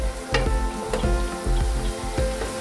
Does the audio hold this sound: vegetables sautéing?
yes